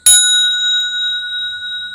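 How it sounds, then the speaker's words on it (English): A fine bell struck once, ringing a pure, steady tone with little overtone or distortion. It is loud and close, sustaining and slowly fading for two seconds. "I'm going to come back with some more of these fine sounding bells. This is such a pure sound."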